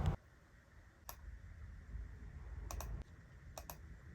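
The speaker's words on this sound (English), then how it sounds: "here I'm going to just type in all the letters of the alphabet in capital letters" Capital letters of the alphabet are typed on a computer keyboard: a few sparse, faint key clicks, single and in quick pairs, over a low steady room hum.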